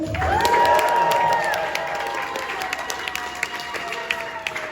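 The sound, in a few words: crowd cheering and clapping for a DJ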